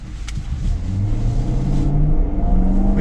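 Dodge Durango GT with a Hemi V8 accelerating, a loud, close engine rumble that rises steadily in pitch and strength for a few seconds, with no talk.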